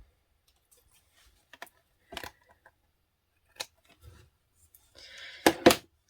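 Scissors trim excess paper from a handmade paper craft, with several crisp isolated snips spaced a second or so apart, ending in a quick burst of louder cuts.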